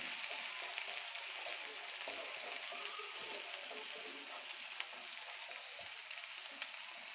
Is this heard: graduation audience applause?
no